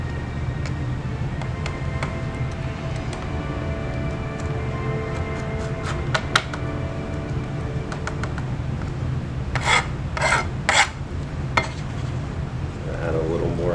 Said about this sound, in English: I like scraping it with my putty knife